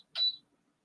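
A single short, high electronic beep, fairly faint, followed by near silence.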